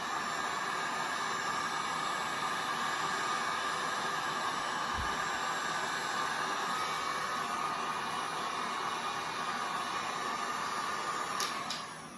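A heat gun running on its turbo setting while shrinking heat shrink tubing over a soldered wire repair, giving a steady close airy roar with a single faint thump, no speech.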